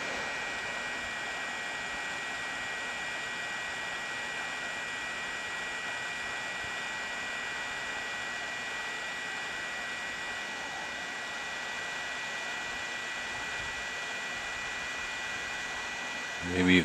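A hot air reflow station blows at 340 degrees on a medium airflow setting during soldering, producing a steady, close, even hiss and hum that continues unbroken throughout.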